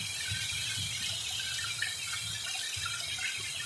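Heavy monsoon rain pours from rooftop drainpipes in a flooded village, a continuous loud rushing gush of water with no pauses.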